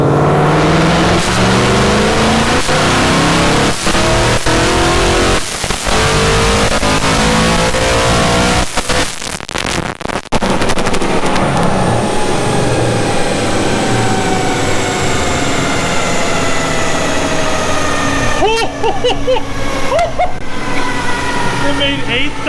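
Supercharged 2015 Ford Mustang making a full-throttle dyno pull, a loud continuous engine roar with rising pitch and a sharp cut-off midway, followed by quieter running and a final rev; people talk over it.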